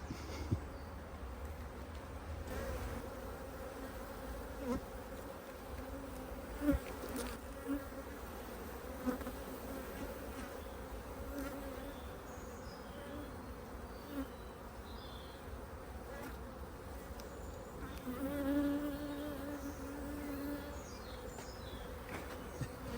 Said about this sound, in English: Oh, and a worker bee,